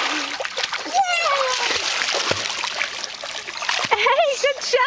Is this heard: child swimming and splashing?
yes